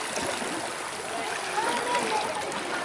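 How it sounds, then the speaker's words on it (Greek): Water flowing in a stream beside the sea, a steady broadband rush and babble that continues evenly with no pauses, fairly close. "Ακούστε το νερό."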